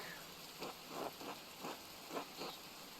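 Rain falls in the Pentiment video game, a soft continuous patter with small bursts of drops splashing onto the ground, quiet and steady throughout, with no voices.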